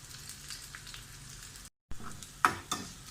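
Mustard seeds, shallots, cumin and fenugreek frying in a small pan of oil for a coconut fish curry, a soft steady sizzle broken by a brief gap, then a few sharp crackles and pops.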